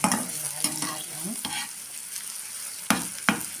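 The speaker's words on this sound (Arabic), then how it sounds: "لما بقلب في البصل اهو" Onions frying in a pan for Egyptian bessara, stirred by hand, giving a continuous bright sizzle broken by several sharp scraping strokes and clatters of the utensil against the pan, close and fairly loud.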